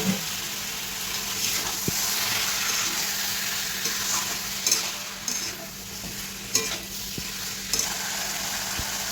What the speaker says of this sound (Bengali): আমি এখন মাংসটা দিয়ে দিলাম।